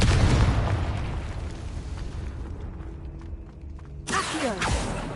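A Confringo spell explodes in Hogwarts Legacy with a heavy booming blast up front, followed by rumbling debris and a second sharp burst near the end.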